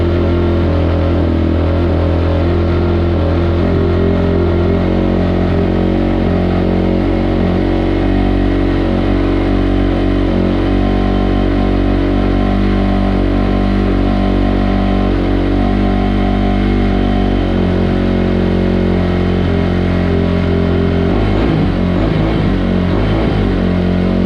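A Kawasaki KX 250F dirt bike engine runs with the choke on, idling loud and close with a rough, steady single-cylinder thrum that wavers near the end.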